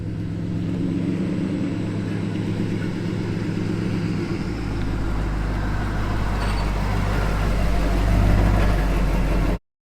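A long-abandoned old Ford F100 pickup drives along the road with a steady, droning engine hum and road rumble, deepening partway through and holding constant until it cuts off abruptly near the end.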